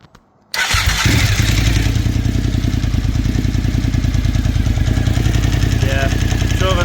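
A Suzuki TL1000R motorcycle engine catches after a brief quiet moment and then idles steadily and loudly at operating temperature, with a low, even rumble and a light mechanical clatter.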